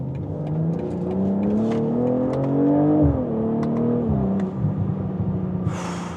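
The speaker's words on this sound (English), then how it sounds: "This B58 inline 6 soundtrack paired with this fantastic gearbox." A BMW M440i coupé's B58 inline-six engine revs up in a rising, smooth drone heard from inside the car, briefly dipping at a gear change before building again; a short hiss closes the run and no one speaks.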